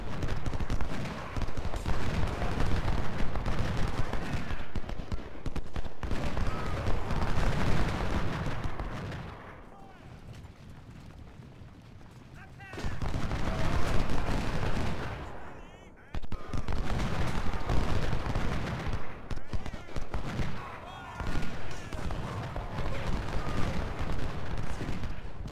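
Long-range artillery fires in Ultimate General: Civil War as dense, rumbling volleys of cannon and musket fire. The booms roll on almost continuously, drop into a brief quieter lull, then surge back loud and crowded, with some talking mixed in.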